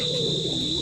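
A Belgian homer pigeon gives a single short, close coo, a smooth low note that slides slightly downward against a faint steady background tone.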